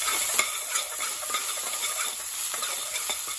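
Mixed onion is stirred in a hot pan for ginger chicken bhuna, a dense continuous hiss of frying with faint light scrapes of the spoon underneath.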